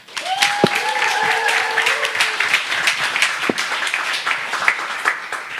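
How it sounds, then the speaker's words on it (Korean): Audience applause and cheering open a startup pitch session, a dense steady wash of clapping with a few whoops and whistles rising over it throughout. "박수와 환화성과 함께 시작하겠습니다."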